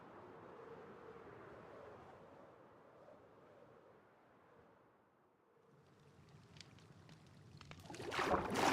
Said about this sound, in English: The waterfall here.